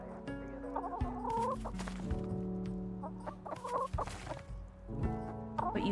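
Chickens in a farm video game cluck and squawk repeatedly and fairly loudly, the calls layered over steady tonal game sounds, with no one talking.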